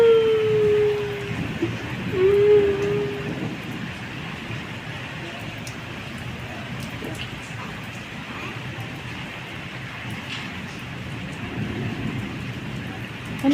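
Rain falling during a windy storm, a soft steady hiss throughout, with a brief whistling tone near the start and quiet voices in the background.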